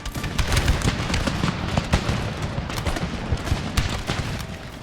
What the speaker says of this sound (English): fire a volley on this cavalry unit if it gets close enough